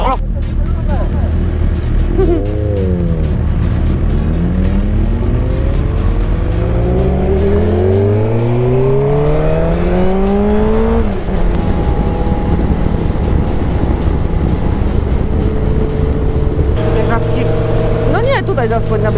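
A car engine rises and falls in pitch as vehicles pass close by, with people talking over the steady road noise.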